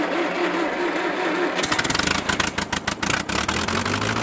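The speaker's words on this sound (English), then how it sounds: "Cold start on a Wisconsin engine." Wisconsin 18 horsepower engine cold-starting, a quiet hum giving way after a moment to loud, rough, uneven chugging and pulsing as it catches and idles close by.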